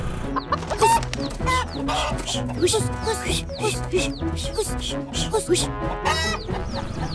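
Chickens cluck busily and continuously nearby, with overlapping squawks and short calls forming a dense, steady barnyard chatter, in a cartoon.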